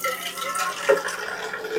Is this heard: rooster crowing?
no